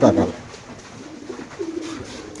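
Pigeons in a breeding loft coo softly in short, low throaty phrases, a brief burst at the start and then quieter calls nearby.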